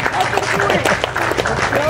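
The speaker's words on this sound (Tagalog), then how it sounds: "Palakpak kayo, Ipin." Small group of people clapping indoors at home, a brief burst of close, uneven handclaps layered under overlapping talk.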